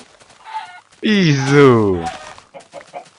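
Minecraft chickens cluck near a pig in the video game, a loud, drawn-out warbling call between brief bursts of someone talking.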